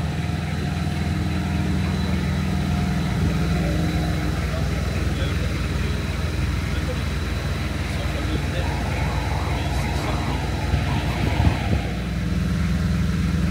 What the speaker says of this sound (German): Hier ein Classic LKW.